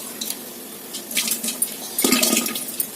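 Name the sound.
soaked sago pearls being added to cooking water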